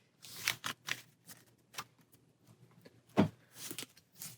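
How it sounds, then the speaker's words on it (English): A deck of cards being shuffled during a solo tabletop deck-building game, a close series of short riffling and sliding bursts with brief pauses between them, and no talking. "Shuffling our deck."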